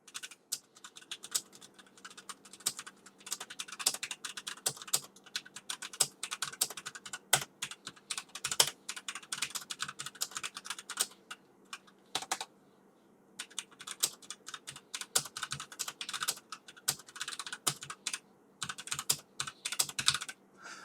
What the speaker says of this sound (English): as soon as I start typing, it will count down from 30 seconds